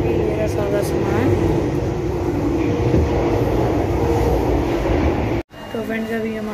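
A metro train carries passengers along, its steady rumble and rolling rail noise continuing loud and unbroken until a brief cut, after which faint voices and a tone are heard.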